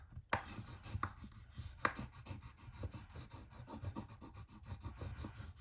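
A sticker is pressed and rubbed down onto a planner page with a few soft taps and a steady, close scratchy rubbing that continues throughout.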